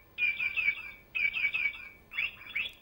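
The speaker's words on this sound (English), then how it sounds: "This young boy is fascinated to the chirping sound of the little bird." A little bird chirps three times in a row: bright, clear, close calls separated by brief pauses, with no other sound around them.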